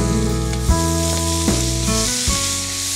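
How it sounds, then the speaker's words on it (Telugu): Pineapple pieces frying in hot tempering oil give a loud, steady sizzle broken by several clatters of stirring, while a sustained musical drone plays throughout. "మెయిన్ ఈ పోపులోనే మనము పైనాపిల్ ముక్కలు వేసేసుకుందాం."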